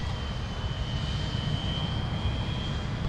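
An airliner takes off from Minneapolis airport, a steady, broad engine roar with a thin high whine, continuous and fairly distant, no talk.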